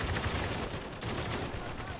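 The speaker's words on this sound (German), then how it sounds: "Schnell, wir sind schwer unter Beschuss!" Dense gunfire during a firefight in the video game Spec Ops: The Line, with overlapping shots and bursts that stay loud and continuous throughout, mixed with other battle noise.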